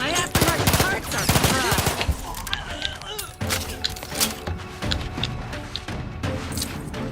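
Rapid automatic gunfire in The Outer Worlds 2 rattles in dense bursts with sharp cracks and impacts, then thins into scattered shots and clatter, loud and close, with a voice speaking through parts of it.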